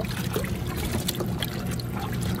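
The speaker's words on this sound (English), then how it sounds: "I'm just going to dump it in as well" Tannin-rich oak bark water is poured and sloshed into a tub for tanning alligator hide, a steady close splashing trickle with low sloshing rumble throughout, no voices.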